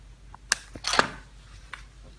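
Camera lens being swapped on a camera body for a 50mm f/1.8 lens, heard as a few sharp close clicks and mechanical snaps spread across about two seconds in a quiet room.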